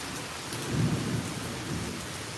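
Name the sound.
thunderstorm thunder and rain in Tampa, Florida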